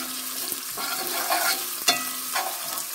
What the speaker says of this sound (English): So I'm gonna tip in my onions. I'm gonna fry my onions.